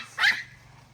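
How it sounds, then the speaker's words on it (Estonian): A single short bark from a dog reacting to an unfamiliar visiting dog, brief and fairly close, followed by quiet. "tuli üks võõras koer, mis tähendab seda, et meie Malibu läks täiesti lolliks"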